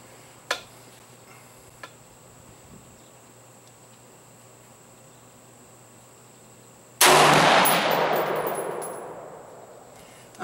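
A firearm fired without its suppressor lets off one sharp, very loud shot whose echo rings and fades over several seconds, after a couple of faint clicks of handling earlier on.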